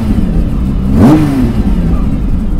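Nissan Skyline Hakosuka with a TC24 engine blips its throttle once, a sharp rising rev that peaks and quickly falls back to a steady idle, heard close and loud.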